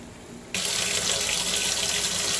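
Cold tap water gushes through the thermostat housing of a 2008 Audi TT, starting abruptly after a quiet half-second and then pouring steadily and loudly as a bright, continuous splashing hiss.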